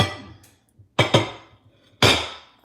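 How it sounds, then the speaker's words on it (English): A plate being grabbed, with a few sharp clinks and clatters of dishes in quick bursts, close and loud against quiet pauses. "hang on a sec, I'm just grabbing a plate."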